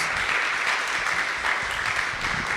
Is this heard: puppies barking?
no